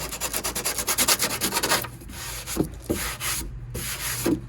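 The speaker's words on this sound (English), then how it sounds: "Got a piece of sandpaper here." Hand sanding with a sheet of sandpaper over metal tabs trimmed from a tractor fender: brisk, even rasping strokes close up for about two seconds, then a few scattered scrapes and handling sounds.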